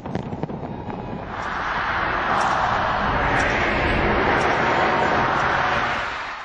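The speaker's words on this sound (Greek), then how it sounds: "βεγγαλικά και πυροτεχνήματα φώτισαν τον ουρανό πάνω από την κόκκινη πλατεία" New Year fireworks over Red Square in Moscow: a dense, continuous roar of bursts and crackling that swells after the first second and holds steady, loud and distant-sounding, with no talk.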